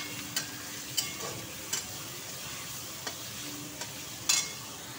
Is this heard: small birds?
no